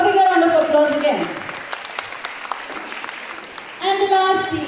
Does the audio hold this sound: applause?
yes